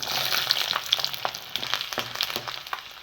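Peeled garlic cloves frying in hot coconut oil for a kattu soru rice dish, a bright continuous sizzle with crackling pops and occasional spoon scrapes against the pan, close by.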